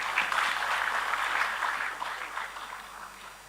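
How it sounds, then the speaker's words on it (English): Applause from an audience at a book launch event in Delhi, a dense wash of clapping that is strongest at first and gradually eases off over a few seconds. "A huge round of applause for everyone."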